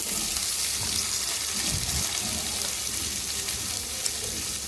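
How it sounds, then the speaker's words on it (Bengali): Prawns frying with onions in a pan give a steady, close sizzle with faint stirring scrapes, continuous and fairly loud throughout, with no voices. "চিংড়ি মাছটাও ভালো করে পেঁয়াজের সাথে ভাজবো"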